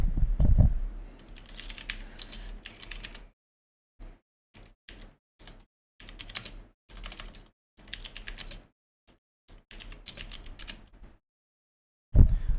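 Someone types on a computer keyboard up close in quick bursts of keystrokes separated by short silent pauses, with no talking.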